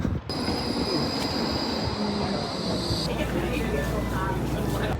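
Continuous rumbling of a tram in motion in Antwerp, wheels grinding and squealing on the rails with a constant high whine throughout.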